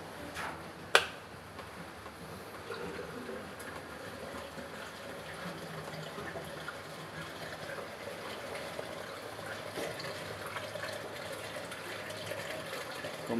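Water drains from an overflow balance tank through a 3-inch elbow, a faint, steady trickle heard close with a sharp knock near the start.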